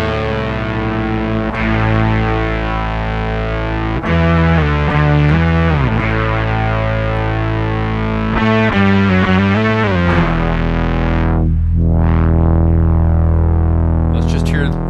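A Roland GR-300 guitar synthesizer plays a thick, fuzzy tone pitched an octave down, with sustained low notes and short phrases, loud and buzzy with heavy effects.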